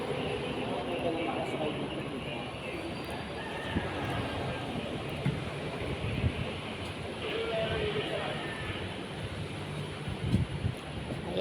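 An LRT train rumbles into the station, a low sustained rolling roar with squeals and clanks, heard amid ambient station noise and some background voices.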